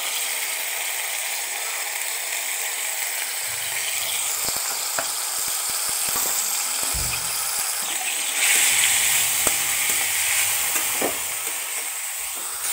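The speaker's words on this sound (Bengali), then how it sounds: "সামান্য একটু লবণ দিয়ে হালকা ভাবে ভেজে নিব।" Food fries lightly with a little salt in a pan, giving a continuous close sizzle and hiss with scattered clicks and scrapes of stirring. The frying swells louder near the end.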